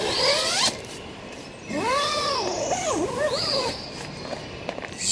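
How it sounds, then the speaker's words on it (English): A tent door zipper is pulled along its track at a campground in a national forest, giving loud, close zipping strokes that rise and fall in pitch, with a few rustles between them. "zip that door up"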